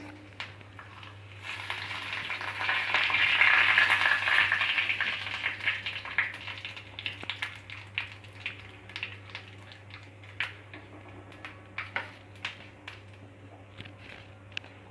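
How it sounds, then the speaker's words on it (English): Cumin seeds and black cumin hitting hot oil for a Bengali mustard fish curry, a broad loud sizzle that swells early then settles into crackling pops and light stirring clicks, with a steady low hum underneath. "Once the oil is heated, we have to put this cumin seeds and black cumin both."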